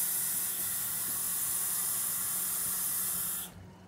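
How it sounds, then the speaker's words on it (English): Steady, loud water spray from a tap rinsing fruit, a continuous broadband hiss that runs without a break for about three and a half seconds before cutting off abruptly. "always water your fruits because they be putting bug spray on them"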